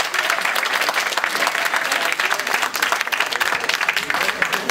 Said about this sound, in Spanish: vamos a darles aplausos